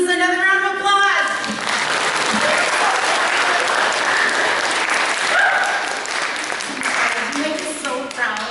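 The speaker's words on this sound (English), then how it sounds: "I think we need to give these dazzling students another round of applause." Sustained applause from an audience honoring students at a Tech Honor Society ceremony, loud and steady for several seconds with some voices and cheers mixed in at the start and end.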